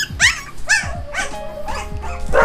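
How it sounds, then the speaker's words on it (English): Several dogs bark repeatedly indoors at close range, sharp loud yips and barks coming in quick irregular bursts with a few whimpering notes between them. "sorry for the noises of the dogs"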